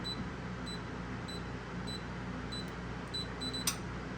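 Short, high electronic beeps from a Winchester TS20-30 gun safe keypad as a code is entered, sounding one after another at an uneven pace, followed by a quick brighter click, over a steady low hum.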